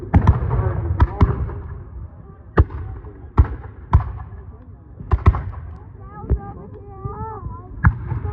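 Muskets fire at a Revolutionary War reenactment of the Battle of Great Bridge: about a dozen sharp reports at irregular intervals, some close and some farther off, with brief voices between shots.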